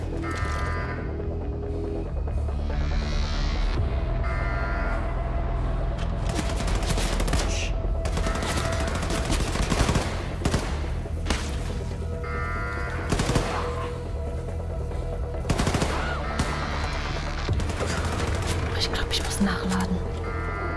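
Rapid bursts of gunfire hit an enemy in Wolfenstein II: The New Colossus, loud crackling volleys scattered over dense game noise and music while someone talks throughout.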